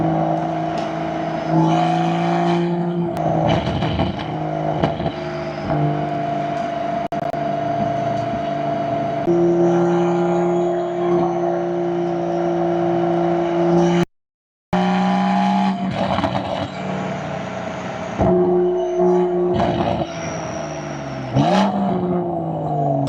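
A Toyota GR Supra on HKS lowering springs drives along the road, its engine and tire hum steady and loud with shifting pitch, broken by one brief dropout midway; no one talks.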